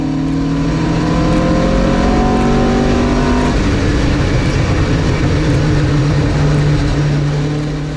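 Classic Marcos race car engine at Snetterton, loud and close from inside the car, a steady roar with its pitch rising, then an abrupt drop and rougher drone as a gear change is missed under heavy braking.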